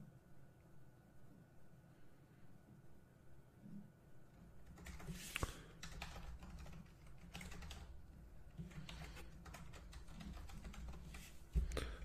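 A password being typed on a computer keyboard: quiet at first, then a run of soft, rapid key clicks and taps close by, continuing steadily with a slightly louder tap near the end.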